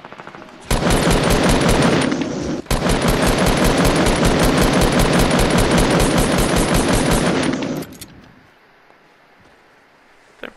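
Rapid automatic gunfire in the video game Fortnite, a loud sustained burst of evenly spaced shots that breaks off once, resumes for several seconds and then stops abruptly, with a single faint shot near the end.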